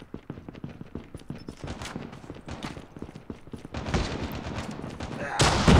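Gunfire in Call of Duty Mobile crackles in quick, uneven shots and short bursts under a player's talk, growing louder toward the end.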